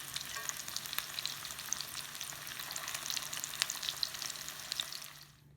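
Meatballs (Japanese nikudango) fry in hot oil with a steady, dense crackling sizzle that runs close and continuous before fading out at the end, with no talking.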